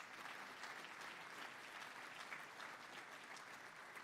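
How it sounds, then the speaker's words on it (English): A crowd at the Texas Bankers Hall of Fame event gives a sustained round of applause, dense and even clapping that stays steady from start to finish. "So again, one other round of applause."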